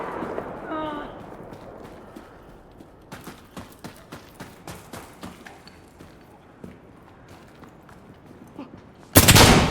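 Enemy gunfire in the video game Insurgency Sandstorm: a series of sharp, evenly spaced shots popping at moderate distance over a low ambient bed, with a voice briefly at the start and a loud burst at the end.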